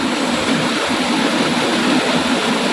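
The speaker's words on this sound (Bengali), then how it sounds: "দেখুন ঝর্ণা," A waterfall at Jhinkpahadi at night gives off a constant, dense roar of rushing water. It is loud and unbroken throughout, with no voices.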